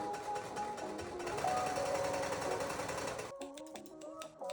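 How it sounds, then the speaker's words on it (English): A sewing machine runs steadily as it stitches around the top edge of a leopard print triangle tote bag, giving a close, continuous mechanical whir for a few seconds before it stops and a few lighter taps follow. "I'm going to go ahead and stitch around the top line."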